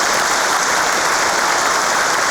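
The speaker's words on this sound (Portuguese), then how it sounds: "Peço que os irmãos recebam uma salva de palmas" Dense, steady applause from an audience at a Masonic lecture, a continuous even patter of many hands clapping with no pauses.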